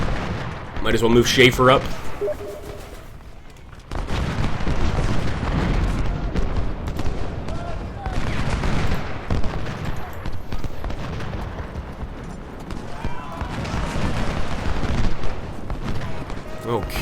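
Cannon and rifle fire from the Ultimate General: Civil War video game, with a dense, continuous battle roar of booming volleys and crackling shots that carries on under a voice talking.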